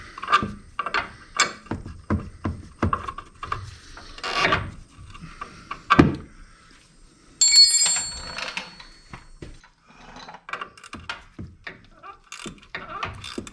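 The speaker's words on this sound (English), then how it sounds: "Somehow I lived 60 years without ratcheting box wrenches." A ratcheting box wrench clicks in short bursts of rapid ratchet ticks while working on a 1994 Ford F-150's shock absorber bolts, near and fairly loud, with knocks and rubbing between the bursts and a brief metallic clatter.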